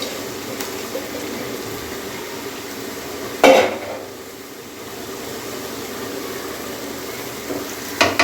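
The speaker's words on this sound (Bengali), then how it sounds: "আমি এখন একটু নাড়াচাড়া দিই, একটু ভাজা ভাজা করব।" Peas and rice being stirred and fried in a pot, a steady low sizzle with a sharp scrape of the utensil midway and a few more clatters at the end, no talk.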